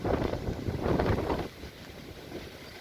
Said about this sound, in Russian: На улице очень-очень сильный ветер.